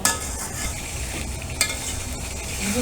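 Potatoes being sautéed in spice masala in a pan for a spicy prawn curry: a close, steady sizzle with brisk stirring scrapes and a sharp utensil knock near the middle, no voices.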